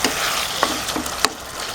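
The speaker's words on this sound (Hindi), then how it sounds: "पानी उबल रहा है।" Water bubbling and sizzling in a pan while cooking chicken keema, a steady close bubbling hiss broken by a few sharp pops and spatters.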